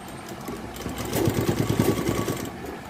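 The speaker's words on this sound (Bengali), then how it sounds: "দেখো আমি সেলাইটা করছি" Close sewing machine stitching fabric, a fast rattling motor and needle chatter that runs without a break for about three seconds.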